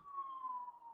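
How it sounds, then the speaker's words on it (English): An emergency vehicle siren sounds from outside, a single sustained wailing tone that glides slowly downward, heard fairly faintly and alone without talk. "Sorry about the sirens."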